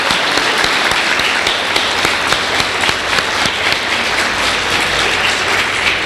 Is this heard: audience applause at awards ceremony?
yes